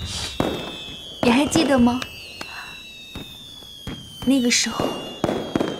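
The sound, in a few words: fireworks exploding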